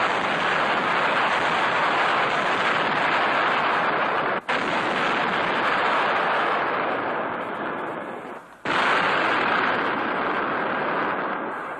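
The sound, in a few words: artillery firing 300-pound projectiles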